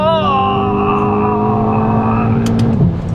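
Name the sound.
Seat Leon Stage 2 turbo engine accelerating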